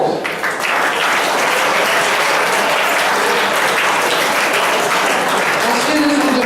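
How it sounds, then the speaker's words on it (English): A school audience claps loudly and steadily for a student division at a reader's theatre performance, with dense sustained applause filling the whole stretch and a few voices mixed in. "Please show your support by giving them a big applause."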